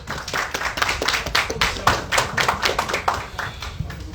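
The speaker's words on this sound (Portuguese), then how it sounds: "Uma salva de palmas para ele" An audience at a business talk applauds with steady, dense clapping throughout, moderately loud and close, with no talking over it.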